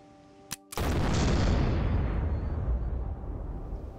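Plastic explosive detonating in the DayZ video game: one sudden loud blast after a brief click, rolling into a long rumbling boom that fades over several seconds, with no voices.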